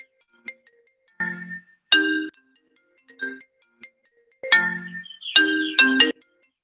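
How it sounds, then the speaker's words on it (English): A mobile phone ringtone plays repeated bright electronic chime phrases during a local government meeting, loud and close with short pauses between bursts. "Pascal, can you switch off your phone, man"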